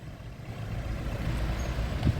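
A goods vehicle (Eicher) rolls away after a sale, its engine a continuous low rumble, fairly close and steady, with a faint hiss near the end and no voices.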